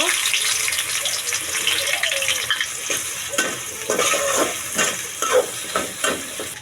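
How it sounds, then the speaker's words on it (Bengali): Onions frying in hot oil in a pot for cauliflower biryani, a loud close sizzle with stirring scrapes growing more frequent toward the end. "তেলটা গরম হয়ে গেছে, পেঁয়াজটা ভেজে নিব"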